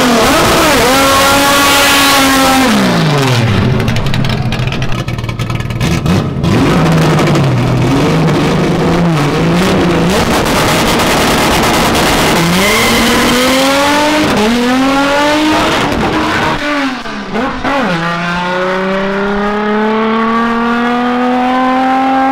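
A turbocharged 710-horsepower car engine revs loud and close, climbing and dropping through repeated throttle blips with sweeping pitch rises across the whole stretch, no talking.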